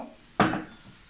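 Soviet-era ceramic dishes and a large tea mug are handled, giving one sharp clatter of crockery knocking together close by, followed by a faint rub in a quiet room.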